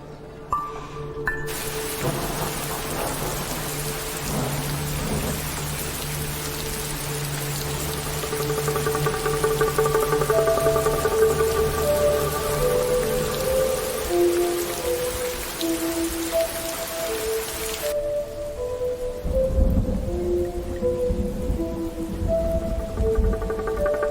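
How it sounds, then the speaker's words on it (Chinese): Heavy rain patters steadily on surfaces at moderate level, with low rumbles of thunder underneath, continuing for the whole stretch without talk. "你叫老天爷下雨，他就下。"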